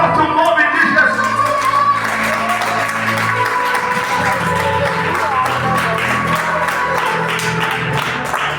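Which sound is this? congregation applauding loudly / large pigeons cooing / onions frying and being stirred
congregation applauding loudly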